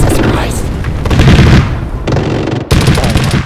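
A Cobra attack helicopter's guns fire in a video game, loud booming bursts with a short break, under excited voices.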